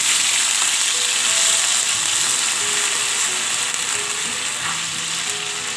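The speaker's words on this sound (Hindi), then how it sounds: "साथ ही साथ अदरक लहसुन का पेस्ट शामिल कर देंगे। हल्का सा फ्राई करेंगे।" Ginger garlic paste frying in hot oil with butter gives a steady, loud sizzle with fine crackle that runs unbroken throughout, without any talk.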